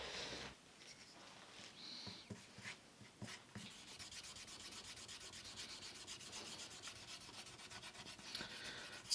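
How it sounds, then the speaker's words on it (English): Polishing pads rubbed steadily across a Les Paul Junior Special–style guitar body, a continuous close scrubbing with a few sharper strokes early on, no voices. "Right, there's some polishing pads."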